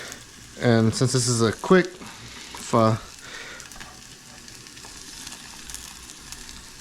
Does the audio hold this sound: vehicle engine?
no